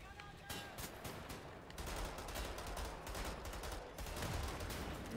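Dual pistols fired in the Wolfenstein: The New Order shooter, a rapid string of sharp shots in quick succession through a loud combat mix, with a voice talking over them.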